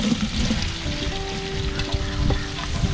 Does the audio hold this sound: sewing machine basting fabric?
no